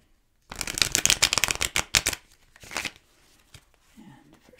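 Tarot cards shuffled close up, a rapid flurry of crisp riffling flicks for about two seconds, then a softer burst and a few quiet slides and taps.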